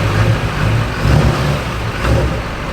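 A giant compound-turbo, solid-axle-swapped Duramax diesel truck rumbles loudly and steadily close by as it pulls out of a shop, its engine pulsing with gentle swells.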